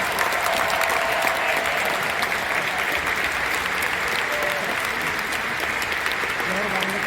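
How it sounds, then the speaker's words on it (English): Sustained applause from a large crowd at Royal Arena, Denmark, during The International 13 esports tournament, steady and even throughout, with faint voices mixed into the background. "all of the competitors deserve a round of applause"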